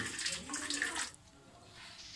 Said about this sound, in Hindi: इसको हम छान लेंगे।